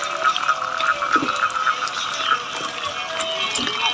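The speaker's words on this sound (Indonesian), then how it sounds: "suasana malam di Ranca Upas ditemani dengan paduan suara kodok dan juga binatang-binatang lainnya" A dense night chorus of frogs croaking continuously at a campground in Ranca Upas, Ciwidey, with many overlapping calls and trilling insect-like chirps filling the background.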